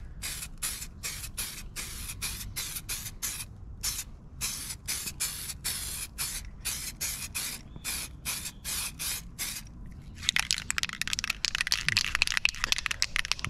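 Short repeated bursts of Spaz Stix candy apple red spray paint hiss onto a nitro RC buggy body, close and steady in rhythm, then shift to a denser, continuous spray near the end.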